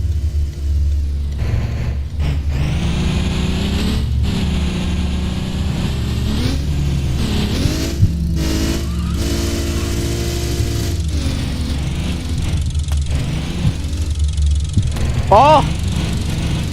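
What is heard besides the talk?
damaged car engine in the video game Bussid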